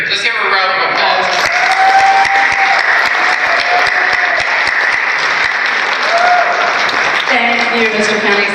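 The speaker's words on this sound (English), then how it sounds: "Mary, let's give her a round of applause." Loud, steady applause from a large audience, filling the whole stretch with dense clapping and a few whistles rising over it.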